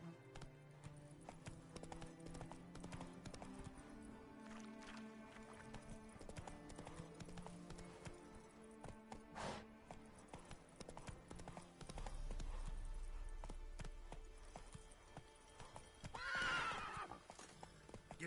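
Roach, a horse in the video game The Witcher 3, gallops with steady clip-clop hoofbeats throughout, joined by a loud whinny near the end over a continuous musical background.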